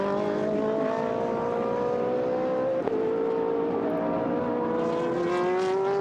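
A GT Sport race car engine, heard as a steady droning whine whose pitch drifts slowly, dips briefly with a click around the middle, then climbs again as the car reverses out of gravel; loud and continuous without voices.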